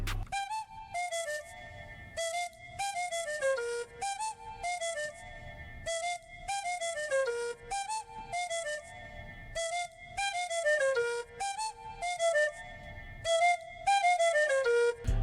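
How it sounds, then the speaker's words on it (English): A bright, flute-like whistle in a hip-hop beat plays a repeating descending melody over a steady rhythmic drum beat, looping several times throughout. "we have us a whistle. It's like a flute whistle kind of thing"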